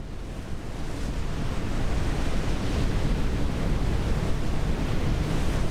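Water waves wash and churn around a ship in the NAUTIS Home ship simulator game, a dense, steady broadband surge with wind-like hiss that swells slightly and never lets up.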